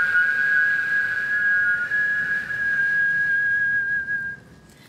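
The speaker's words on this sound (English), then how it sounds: "A good old-fashioned whistling contest." A person whistles a single sustained note in a longest-note contest, holding steady and loud for several seconds, then fading out near the end.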